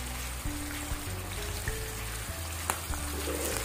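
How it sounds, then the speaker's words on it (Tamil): Marinated fish fries two pieces at a time in oil, a steady sizzle with bubbling and several distinct pops and clinks, no talk. "நம்ம வந்து மிக்ஸ் பண்ணி வச்சுருக்க ஃபிஷ்ஷை வந்து அதில் போட்டுடலாம்."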